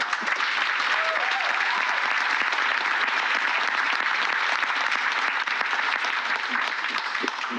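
Sustained applause from a graduation ceremony audience for a medical residency program, steady and dense from start to finish, with faint voices and a few cheers mixed in.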